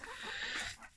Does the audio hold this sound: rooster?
yes